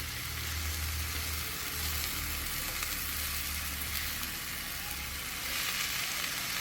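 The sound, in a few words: shiitake mushrooms sautéing in a pan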